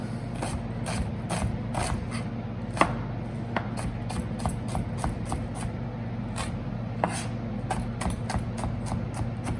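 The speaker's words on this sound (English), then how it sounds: "going to chop the onion to go in the tadka" Knife chopping onion on a board for a tadka in a home kitchen for vegetable curry and dahl, a steady run of sharp close taps over a low background hum, no talk.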